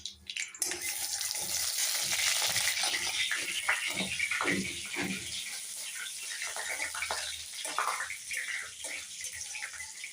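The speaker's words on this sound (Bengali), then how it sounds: "এরপর জিরা, শুকনো লঙ্কা আর গরম মশলা ফোড়ন দিয়ে দিলাম, তেজপাতাও দিয়ে দিলাম।" Cumin seeds, dried chilli, garam masala and bay leaf hit hot oil for an aloo dum, giving a loud, steady close-up sizzle and spatter that eases slightly after the first few seconds, with no talk.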